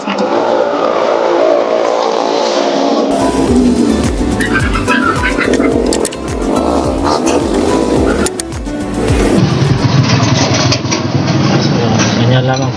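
A motorcycle engine idles steadily in a workshop during a sprocket set replacement, a loud continuous rumble that grows busier and rougher in the middle stretch.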